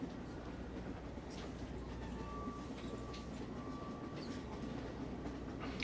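A passenger train without a dining car runs on rails, producing a constant dense rumble and faint clatter throughout, steady and moderately quiet, with faint voices beneath.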